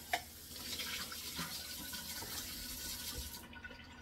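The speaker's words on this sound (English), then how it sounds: "Just rinse that out." Running water rinses the inside of a narrow-neck water bottle, a faint, continuous splashing and sloshing that stops abruptly at the end, with no talking.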